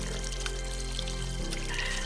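Well water from a kuvo pours steadily out of a pipe on a farm plot, a continuous splashing trickle with a low hum underneath, heard close and without talk.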